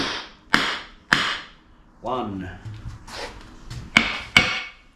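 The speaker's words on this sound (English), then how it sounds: "Get the hammer. And just thump that." A hammer thumps the sump pan of a BMW Mini Cooper R50/R53 during an oil leak gasket repair: several sharp, close metallic knocks spaced irregularly, with someone talking briefly between them.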